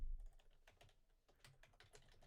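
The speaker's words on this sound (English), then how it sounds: "when I'm typing all this in, I'm not adding extra accidentals in" Quiet computer keyboard typing while notes of a minor scale are entered into music notation software, a quick irregular run of soft key clicks with brief pauses, close and alone.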